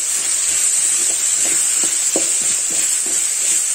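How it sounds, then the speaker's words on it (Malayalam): A curry with Kashmiri chili and salt is stirred in a pan, a steady loud hiss of frying under soft, irregular scraping strokes of the spoon. "കൊടുക്കാം, നന്നായിട്ട് ഇളക്കി"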